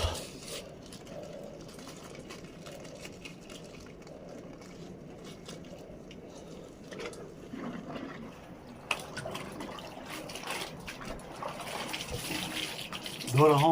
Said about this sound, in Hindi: मैंने सुबह कपड़े भिगोए थे 1 घंटे पहले और अब कपड़े धो रहा हूँ